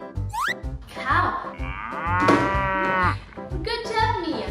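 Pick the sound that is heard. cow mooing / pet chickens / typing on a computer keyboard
cow mooing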